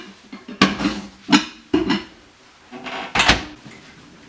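A lidded glass dish goes into a microwave oven for popcorn, with several sharp knocks, clinks and a door thump spaced a second or so apart, close and fairly loud.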